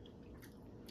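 Crunchy fried pakora being chewed up close, a steady run of soft crunching and squishing bites with no talk over it.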